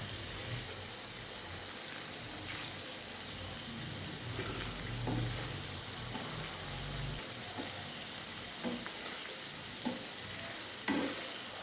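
Chicken pieces fry slowly in oil over lowered heat, a steady soft sizzle with occasional stirring scrapes and small pops, fairly quiet and continuous throughout.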